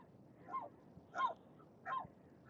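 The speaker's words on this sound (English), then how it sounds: "The seagulls have come to say hi." Seagulls call three times outdoors, with short, faint, evenly spaced squawks over quiet background noise.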